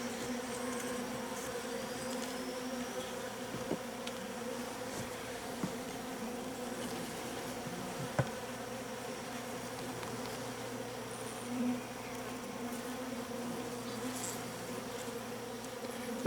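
Honey bees buzz around an open hybrid beehive at the brood nest, a soft, continuous drone of many insects nearby with a few faint knocks.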